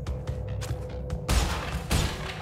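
Explosions in the Crash Bandicoot N. Sane Trilogy video game: two loud, broadband blasts about half a second apart, preceded by rhythmic game sounds and music.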